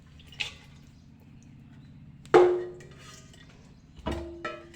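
Thoothuvalai leaves are rinsed by hand in water, giving a few separate splashes and sloshes, close and clear, with quiet dripping in between.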